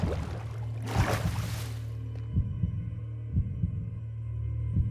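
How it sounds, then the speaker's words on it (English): A Minecraft heartbeat thumps low and muffled in slow, regular double beats, about one per second, over a steady background hum, with a brief rushing swell near the start and no talking. "Listening to the heartbeat."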